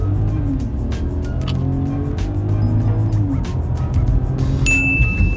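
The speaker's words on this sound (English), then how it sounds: "And now it's time to floor it." A Mercedes GLS luxury SUV accelerating at full throttle without a sports mode, its engine note climbing steadily in pitch over several seconds, loud and close, with a brief high squeal toward the end.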